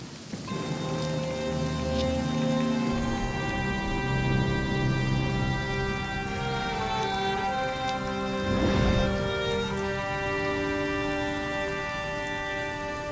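Steady rain hisses across the Storm-Touched Highlands in Runescape: Dragonwilds, layered with sustained music tones, and a low rumble of thunder swells briefly near the end.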